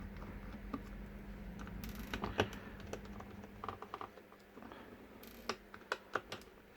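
Screws being backed out of the rear casing of a Garmin Zumo 350LM GPS with a small screwdriver, giving faint scattered clicks and light ticks over a quiet room hum, with no talking.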